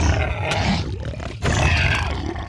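A dying Minecraft hoglin: a deep, gravelly beast-like roar that fades out, pauses briefly, then comes back as a second strained, groaning roar.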